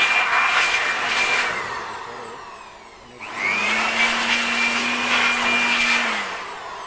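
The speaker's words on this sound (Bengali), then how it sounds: "সেগুলো আমি বুলুয়ার মেশিন দ্বারা পরিষ্কার করে নিলাম" A blower machine whooshes steadily while cleaning out the inside of an opened 45 kg digital weighing scale. The loud airflow dips briefly midway, then resumes with a higher whine.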